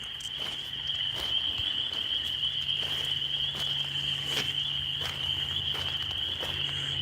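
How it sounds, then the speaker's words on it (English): Spring peepers call at night in a dense chorus, a continuous shrill high peeping that stays steady throughout, with faint soft thumps and rustles nearby and no talking. "Hear these spring peepers?"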